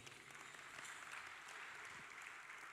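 A conference audience at a pension summit applauds a performing troupe, dense, even clapping from a large crowd heard faintly and steadily throughout.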